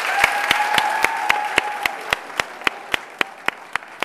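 Audience applause for volunteer dentists, optometrists and other healthcare professionals at a free clinic press conference, a steady wash of clapping with a rhythmic group beat, gradually thinning toward the end.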